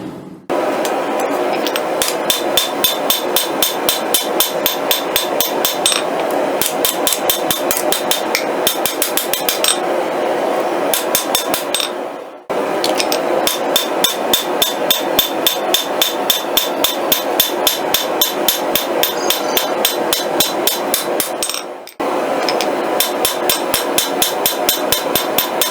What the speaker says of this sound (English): And there's the rough forging of our Bowie knife.